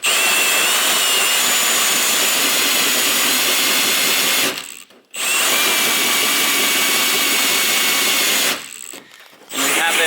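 A power drill runs loud and steady during a Honda Civic build, with its clutch setting making it cut out twice, briefly dropping to near silence before spinning back up.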